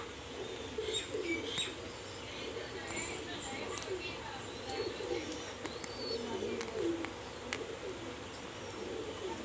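Pakistani high-flyer pigeons in a loft coo softly with a few chirps and wing flutters, faint beneath someone talking nearby.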